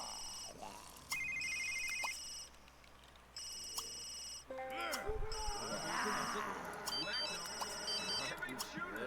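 A phone ringtone in a horror video game rings in repeated electronic bursts, over game sounds and a player talking.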